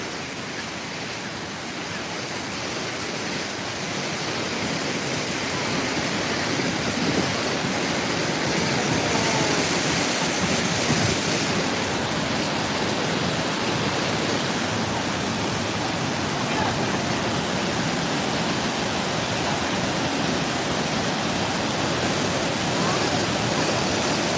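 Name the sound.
Kuang Si Waterfall in Luang Prabang, Laos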